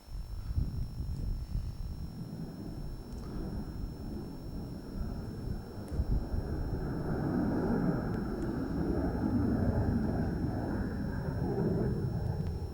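A distant jet aircraft roars overhead at the RNAS Culdrose air display, a low broad rumble that slowly builds and swells, with wind buffeting the microphone.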